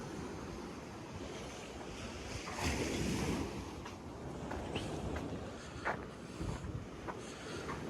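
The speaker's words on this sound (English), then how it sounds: "what you can do is listen to the sea itself and get that feeling of sea air" Sea waves wash onto a beach of washed-up sand, a steady broadband surf roar with swells breaking and hissing up the shore, buffeted by wind noise on the microphone, with no voices.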